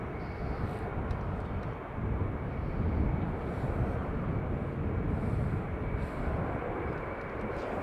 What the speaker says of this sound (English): Ryanair from Barcelona next to arrive.